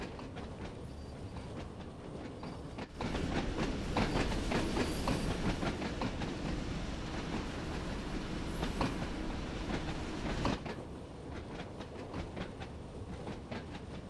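A British train on the Isle of Wight line in Train Sim World 2 pulls away from a platform and runs on, with a steady loud rumble and rhythmic clatter of wheels on rail that swells after a few seconds and settles back near the end.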